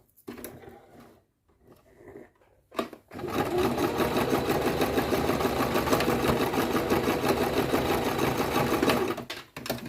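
A sewing machine stitches trousers in two rows, starting with a few hesitant short runs and handling noises, then running in one steady, close, rapid mechanical stitching rhythm for about seven seconds before stopping.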